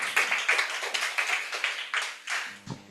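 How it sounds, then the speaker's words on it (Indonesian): An audience claps through a motivational talk, with a steady patter of many hands, moderately loud and continuous, then tapering off near the end. "Tepuk tangan dong buat teman-teman semua."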